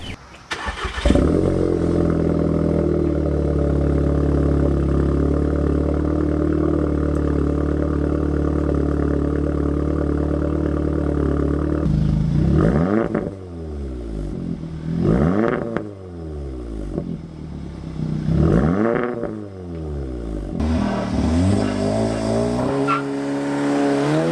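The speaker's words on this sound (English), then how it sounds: "I had the greatest sounding exhaust ever." An Audi A3/S3 with a cat-back exhaust idles with a deep, steady exhaust drone, then is revved hard several times, each rev rising and falling in a loud, raspy sweep.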